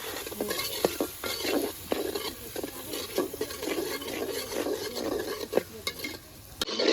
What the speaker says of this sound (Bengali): একটু সুন্দর করে ভাজা ভাজা হয়ে গেছে চিংড়ি মাছটা